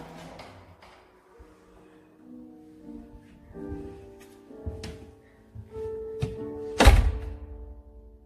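A door in a stairwell is worked open with clicks, creaks and low thumps, ending in a loud clunk of the latch or door, close by in a quiet, reverberant space.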